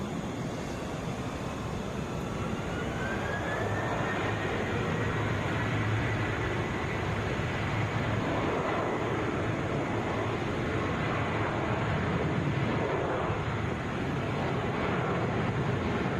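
A Southwest Airlines Boeing 737 airliner at Atlanta International Airport, a steady broad jet engine roar that holds loud and continuous, with a faint rising whine over the rumble.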